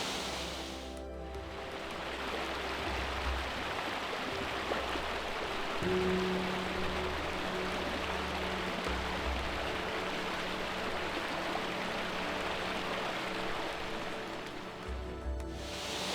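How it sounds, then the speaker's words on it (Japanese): A mountain river below a waterfall, running high with plenty of water, rushes steadily and loudly as broad unbroken noise, close at hand and alone, with a faint low hum underneath. "川のそばまで降りてきました。"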